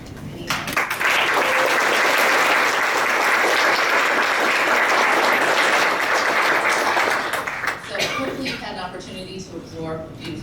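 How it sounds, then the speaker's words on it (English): An audience applauds volunteers at a spring community welcome event, a full, dense burst of clapping that swells quickly, holds steady, then thins into scattered claps as voices return. "please wave your hand so we can take a moment to recognize and applaud your efforts"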